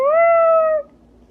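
A single drawn-out meow imitated by a human voice, clear and close, holding steady for most of a second before cutting off into quiet.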